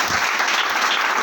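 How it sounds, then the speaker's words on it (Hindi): Loud, dense applause fills a business seminar hall, a short burst of steady clapping from a large audience cheering a speaker. "हमारे अशोक सर के लिए जोरदार ताली हो जाए।"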